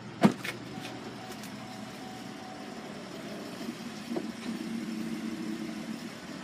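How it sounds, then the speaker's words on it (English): Power liftgate on a 2010 Buick Enclave running: a sharp thump at the start, then a steady low electric motor hum that swells and holds through the second half, fairly close. "There's your power liftgate."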